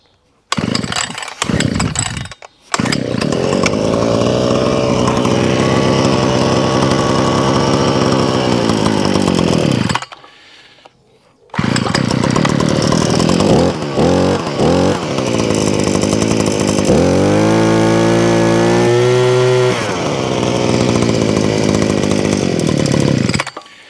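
A petrol-engine post hole drilling auger roars loudly at close range, cutting out briefly, then restarting and revving up and down in a high buzzing whine, with no talking.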